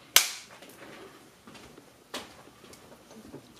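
A film clapperboard slate snaps shut once with a sharp, close crack at the start, followed by faint room noise and a softer second knock about two seconds later.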